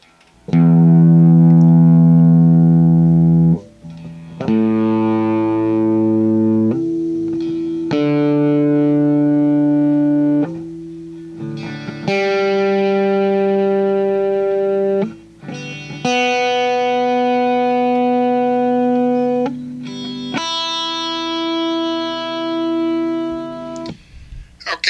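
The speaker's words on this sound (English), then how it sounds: "play the open strings from the lowest string up to the highest string" Clean electric guitar open strings played from lowest to highest ring out one after another, each held for several seconds with a brief gap between, bright and loud with rich overtones.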